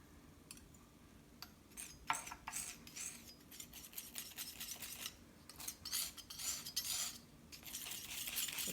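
Homemade oil varnish is stirred into a paint mixture in short, soft scraping and clinking strokes, faint and close, with irregular bursts of mixing.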